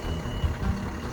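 A vehicle reverses through thick snow in a Toronto snowstorm, with a low engine rumble and faint reversing beeps heard over it in a short stretch.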